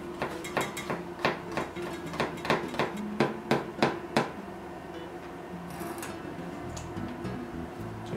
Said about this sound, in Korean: 돌려받기 한 애호박은 4cm로 채를 썰어주겠습니다.